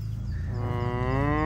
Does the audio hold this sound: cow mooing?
yes